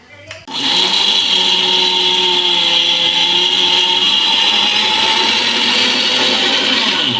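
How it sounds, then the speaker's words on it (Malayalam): Electric mixer grinder blending kappa biryani ingredients into a coarse paste: after a brief click at the start it spins up and holds a loud, steady, high whine with a constant motor drone, close and continuous. "ഇതെല്ലാം നമുക്ക് മിക്സിയിലെടുത്തിട്ട് ഒന്ന് അരച്ചെടുക്കണം."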